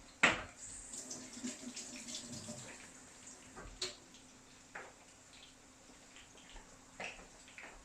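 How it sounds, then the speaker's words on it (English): A kitchen tap runs while hands are washed, a faint, uneven trickle of water with a few soft splashes and clunks near the start. "Just going to wash my hands."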